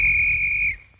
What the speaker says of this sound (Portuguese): Veloz, está vendo esse apito? Bem, se o lobo aparecer, é só apitar assim